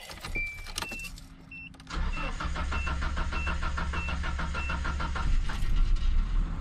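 A 1994 Nissan minitruck engine cranks briefly, then catches and settles into a steady, close idle after a wash, running alone with no talk.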